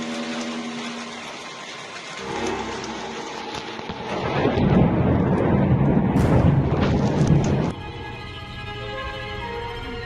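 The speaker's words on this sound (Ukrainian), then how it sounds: "Гроза продовжується, погодні умови залишаються нестабільними." Thunderstorm over Moscow: a long, heavy roll of thunder builds and rumbles loudly over steady pouring rain, then cuts to rain alone, with no talk.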